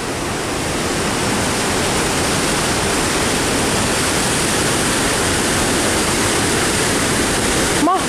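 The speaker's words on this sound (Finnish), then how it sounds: "Mahtavaa koski." Roaring river rapids and a waterfall in Sweden make a loud, constant wall of rushing water that barely varies throughout, ending with a brief sharp click.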